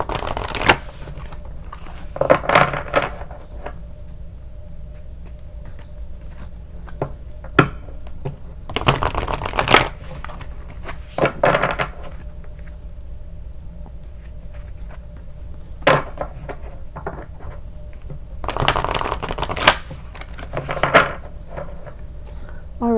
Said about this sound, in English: So I'm gonna shuffle these and get one of those for you.